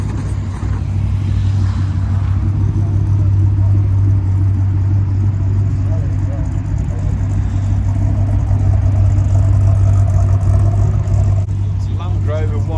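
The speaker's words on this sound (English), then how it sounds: "She's got a Land Rover 101 radio body, 1976. It's got a V12 petrol engine in it." A 1976 Land Rover 101 radio-body military truck with a V12 petrol engine idles nearby in a loud, steady, deep rumble that holds a constant low drone throughout.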